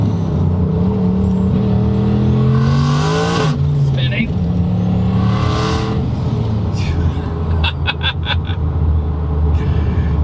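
An 800 HP Camaro with a Silverado engine swap accelerates hard, its loud engine note climbing in rising sweeps and dropping between gears, while people talk over it inside the car.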